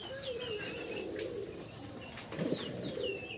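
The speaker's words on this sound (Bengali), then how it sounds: "একজোড়া ড্যানিশ কবুতর আপনারা দেখতেছেন" Soft cooing from a pair of Danish pigeons repeats over a steady background hum, with a few higher chirps and a slightly louder burst of cooing near the end.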